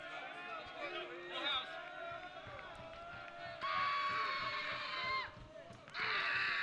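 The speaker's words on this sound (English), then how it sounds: "Crowd livening up here" Crowd noise at a college baseball game, cheering and babble rising in bursts over steady loud background, with some nearby talk mixed in.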